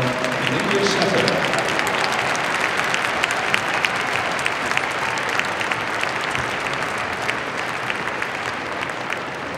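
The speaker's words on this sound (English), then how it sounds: "warm applause for our winner of the Glenrock Crafts 2005, the English setter" Warm audience applause fills a large dog-show hall at Crufts 2005 as the English setter is named gundog group winner, a dense, steady roar of clapping sustained throughout with a faint voice early on.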